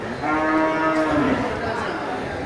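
A Simmental cow moos loudly and close by at a livestock market in Bireuen, Aceh, one long low call over a noisy outdoor background.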